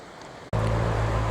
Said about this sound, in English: Here it's pretty shallow and has some rapids there.